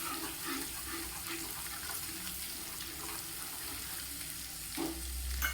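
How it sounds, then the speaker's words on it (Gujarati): Crushed sesame seeds being stirred into a whole-onion curry in a pan, a steady soft sizzle with scraping stir strokes and a slightly louder scrape near the end, no talking. "આ થોડા એવા તલ જે અધકચરા વાટેલા હતા તેને આપણે એડ કરીશું તેને હું બરાબર મિક્સ કરી લઈશ"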